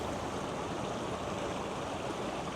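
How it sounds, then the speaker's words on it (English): A stream flows in a steady, close, broadband rush that holds evenly with no voices. "just watching the water flow"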